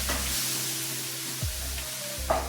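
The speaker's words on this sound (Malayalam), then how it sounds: "ഇതിന്റെ പച്ചമണം മാറുന്ന വരെ ഞാനിത് ഇതിലിട്ട് വഴറ്റി എടുക്കുന്നുണ്ട് കേട്ടോ." Ground coconut is sautéed in oil in a pan for a buttermilk curry, giving a continuous close sizzle with a few soft scraping stirs.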